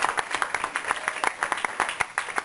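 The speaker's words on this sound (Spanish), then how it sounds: "denle ese aplauso fuerte al Señor" Church congregation clapping loudly for the Lord during a Sunday sermon, a fast, fairly even rhythm of many hands striking together, close and strong, with no talk over it.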